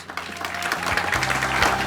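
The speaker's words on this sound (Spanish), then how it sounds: "Denle el aplauso más fuerte al Espíritu de Dios." A church congregation bursts into loud, sustained applause at a Spanish-language worship service, the clapping dense and steady for the full two seconds with no speech over it.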